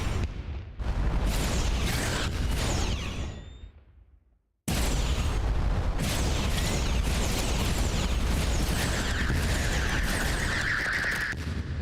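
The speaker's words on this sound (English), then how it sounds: "I love the sound of the phasers." Laser phaser cannons fire in the space video game Sea of Stars, a dense, continuous barrage of bursts and booms. A brief drop-out near the middle separates the volleys, with no talk over them.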